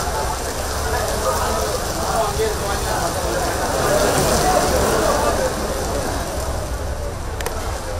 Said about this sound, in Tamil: சென்னையில் விட்டுவிட்டு பெய்து வரும் மழை.